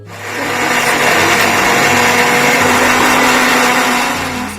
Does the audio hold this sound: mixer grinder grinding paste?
yes